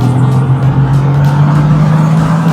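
A Bentley Continental GTC accelerates hard, its engine a loud, steady, close drone with a strong low tone and rising road and wind noise throughout.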